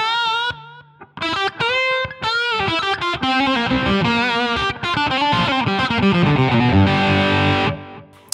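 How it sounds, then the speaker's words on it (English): An electric guitar run through Amplitube 5 with a tape echo effect plays a bluesy phrase of sustained distorted notes and bends, with faint repeats trailing after the notes before it cuts off. "After that, I put a little bit of tape echo just for a little bit of repeats."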